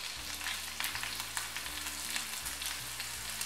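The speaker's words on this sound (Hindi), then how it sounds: "तेल हमारा गरम हो गया है तो अब हम तेल में कटी हुई मिर्च डालेंगे" Chopped chillies frying in hot oil in a pan for a dry veg Manchurian, a steady close crackling sizzle with light stirring scrapes throughout, no voices.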